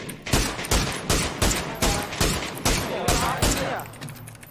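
Gunfire in PUBG during a Thai esports series match: about nine evenly spaced, punchy shots ring out in a steady rhythm, loud and close, then trail off.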